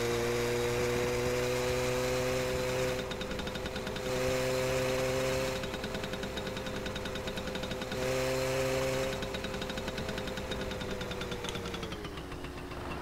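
A motorcycle engine in the video game My Summer Car runs steadily for several seconds, a loud droning hum that rises and dips slightly in pitch, with no talk over it.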